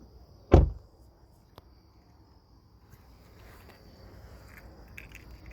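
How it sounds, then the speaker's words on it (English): A Hyundai Elantra car door shuts with a single sharp, solid thud near the start, then a faint click and quiet ambient hiss with a steady high whine in the background. "Close your door."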